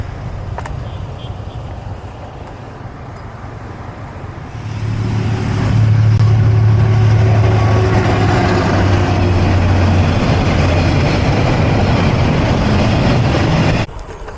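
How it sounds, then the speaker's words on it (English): Train passing through a town in Da Nang, Vietnam, first a distant rumble, then a loud close roar with a low sustained horn-like drone for several seconds before it drops away sharply. "So there's another train coming."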